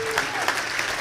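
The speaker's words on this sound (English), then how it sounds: "big round of applause to them" Banquet audience applauding musher award winners at a sled dog race finish banquet, a steady wash of clapping through the whole short moment.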